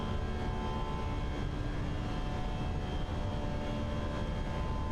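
A Fenix A320 airliner's engines in a flight simulator give a steady, loud, broadband roar with faint tonal whine, holding constant for a few seconds with no talking.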